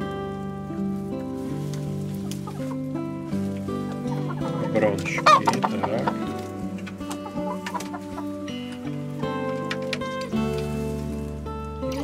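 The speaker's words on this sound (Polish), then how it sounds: "Kury grzecznie siedzą" Green-legged hens with coloured leg rings cluck and murmur softly at night in their coop, with brief speech over the clucking.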